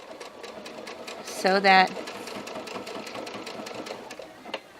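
A sewing machine stitches a hoodie lining in a short, loud burst of rapid motor whirring, with a soft voice speaking before and after it.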